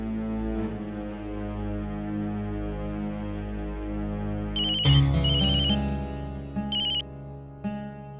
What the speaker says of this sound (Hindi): नैतिक को फोन करती हूँ।